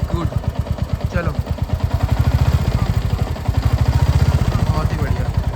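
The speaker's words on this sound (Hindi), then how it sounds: "पहला गियर डालो, यस, क्लच छोड़ के रेस दो, यस, रेस छोड़ो, क्लच दबाओ, दूसरा गियर" A motorcycle engine pulls away in first gear under throttle, a loud, close, rhythmic thumping that speeds up and grows stronger, with a person talking over it.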